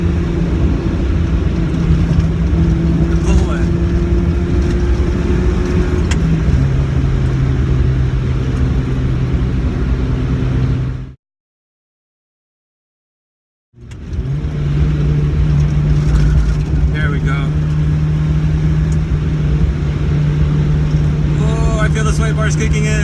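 A manual car downshifts to third gear before a sharp turn, then accelerates with a loud, droning engine tone that cuts out to silence for about three seconds. It resumes at a lower, steady pitch with the engine pulling hard.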